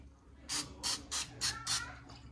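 Cooking oil spray is squirted onto a folded tortilla for a crunchwrap in a home kitchen, five short hissing bursts in quick succession, close and fairly loud.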